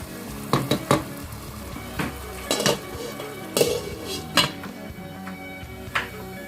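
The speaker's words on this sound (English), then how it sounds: "the meat is in the fire. I'm still turning it" Meat for Nigerian meat pie being stirred and turned in a pot, with a series of sharp scraping and clinking utensil strikes against the metal at irregular intervals over a low sizzle.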